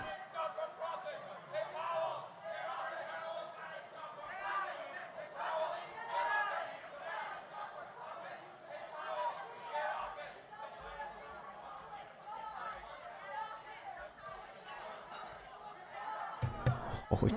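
A crowd of protesters chanting and shouting, a dense continuous roar of many voices with rising and falling cries, heard at a moderate distance with a louder burst near the end.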